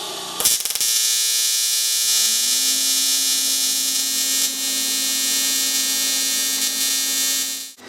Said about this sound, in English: I'll get some tacks on here and then we'll bring the camera in a little bit closer so we can get some decent arc shots